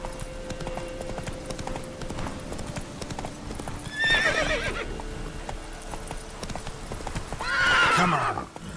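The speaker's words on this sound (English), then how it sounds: "Whoa there, Roach." Horse hooves clip-clop steadily in The Witcher 3 video game, joined twice by loud whinnies, with music and ambient game sound underneath.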